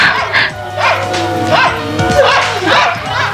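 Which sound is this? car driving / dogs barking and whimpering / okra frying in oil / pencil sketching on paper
dogs barking and whimpering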